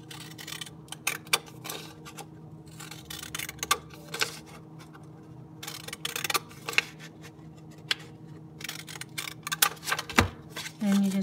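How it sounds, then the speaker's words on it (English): Short, crisp snips of cloud-edged craft scissors cutting paper come in irregular bursts over a low steady hum, close and fairly quiet. "you can take your cloud scissors and just cut them just like this"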